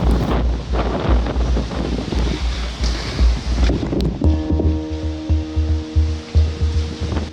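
Strong hurricane wind gusts roar and buffet the microphone in surging waves, loud and rough, with rhythmic thumping bursts toward the end.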